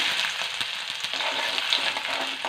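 Fenugreek seeds frying in hot oil as ginger goes into the pan, giving a steady, close sizzle with small crackles and the odd stirring scrape throughout, no voices.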